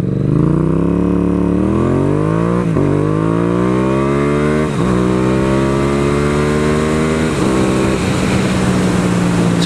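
A Yamaha XSR700 ABS motorcycle accelerating hard through several gears, its engine note climbing steeply then dropping at each shift, loud and close with no talk.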